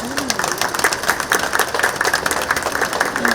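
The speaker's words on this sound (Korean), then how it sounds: "우리 존경의 큰 박수를 한번 해주십니다" Audience applause at a monument unveiling marking the first anniversary of the Daegu-Gyeongbuk integrated new airport, a dense, steady patter of clapping that holds for a few seconds at a fairly close, even level.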